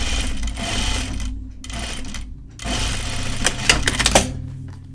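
A sewing machine runs in short bursts between loud mechanical clacks as the presser foot is lifted and lowered, close and rattling, with brief quiet gaps between the clunks.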